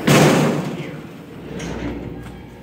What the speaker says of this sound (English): Yeah, these doors are loud though.